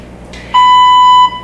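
A single loud electronic workout-timer beep during a full-body HIIT session, one steady pure tone lasting under a second, alone against a quiet background.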